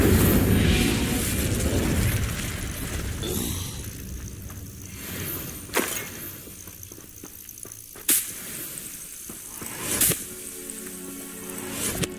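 Whooshing casts and sharp cracking impacts of Incendio, Stupefy and Accio spells in the Hogwarts Legacy video game, a roaring fiery rush at first, then several distinct snapping bursts spaced a couple of seconds apart over quieter game ambience.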